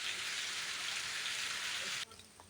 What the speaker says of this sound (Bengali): গাইস বৃষ্টি শুরু হয়ে গেছে